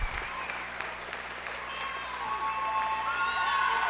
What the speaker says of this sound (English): And he gets a large cheer.